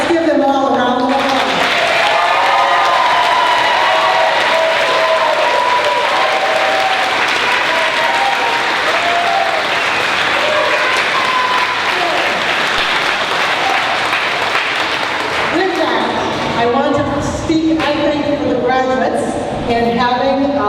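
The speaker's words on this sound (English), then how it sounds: "Let's give them all a round of applause." Audience at a 2015 alternative high school graduation ceremony breaks into sustained, loud applause, steady clapping filling the hall before a voice speaks over it near the end.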